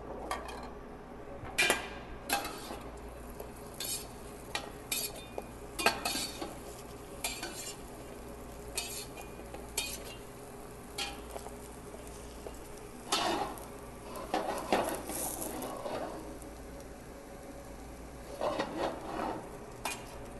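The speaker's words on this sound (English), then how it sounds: "Let's baste the scallop a little bit." Scallops sizzle gently in a pan of seafood stew with diced tomato while being basted, heard as a low, continuous frying hiss broken by repeated clinks and scrapes of a spoon against the pan, with no voices.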